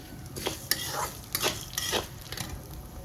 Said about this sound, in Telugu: ఇప్పుడు ఆవాలు మెంతులు వేసుకోవాలి.